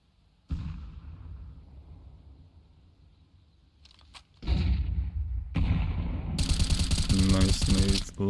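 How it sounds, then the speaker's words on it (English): Grenade blasts and gunfire from a Counter-Strike match burst in loud and broadband over a quieter opening, with several heavy bangs building into dense, sustained battle noise near the end. "Nice nade lands on the Keen, takes him down to 27 HP."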